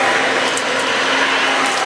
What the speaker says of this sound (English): Now we're just gonna take our handy dandy Kirby vacuum and clean up the mess.